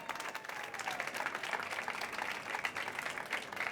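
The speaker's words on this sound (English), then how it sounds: "big round of applause please for Susanna, for Jan and for Nir" Sustained applause from a conference audience on the innovation stage at South Summit in Madrid, a dense, steady wash of clapping lasting several seconds without pause.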